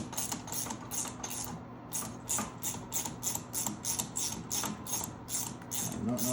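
A ratchet unscrews the spark plug on a 1975 Honda XL125 motorcycle, with steady, rhythmic clicking strokes repeating close by throughout.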